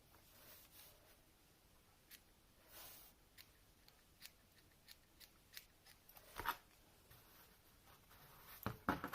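Quiet, close-up scissor snips cut through wool fibre in a series of irregular crisp clicks and rustles.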